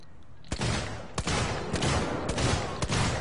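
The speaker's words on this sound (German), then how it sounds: "Ja, die schießen sehr, sehr gut, ja." Enemy gunfire in the survival horror game Alien Isolation, a run of loud sharp shots in quick succession with a heavy roaring background, no talk over it.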